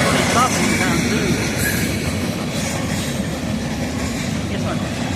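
Railcars of a southbound train roll past at close range in the evening, producing a constant heavy rumble and rattle with light wheel squeal, loud and unbroken beneath occasional speech.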